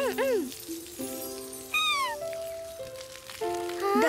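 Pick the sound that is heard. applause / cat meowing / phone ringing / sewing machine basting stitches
cat meowing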